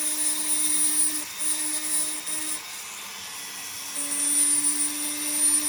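Rotary burr cutting a jeweler's ring setting for a marquise diamond, a thin high-pitched whine from the spinning tool that dips and rises as it contacts the metal, steady and close.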